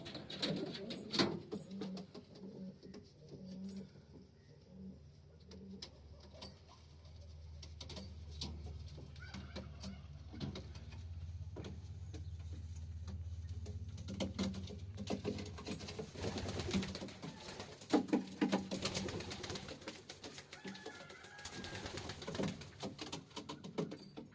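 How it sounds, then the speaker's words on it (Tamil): Racing homer pigeons coo in a loft, a low steady murmur of soft calls with occasional wing flutters and scuffs, close and continuous across the whole stretch. "நம்ம புறாக்கள் எல்லாமே நல்லா தரமான ரோமம் தான் எதுவுமே வந்துட்டு குறைஞ்ச ரோமர் கிடையாது எல்லாமே ரேஸ் ரோமர் தான்"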